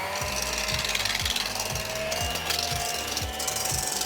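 An electric mixer whips egg whites for pancake batter, a loud continuous whir broken by a steady train of rhythmic low pulses, with no talking.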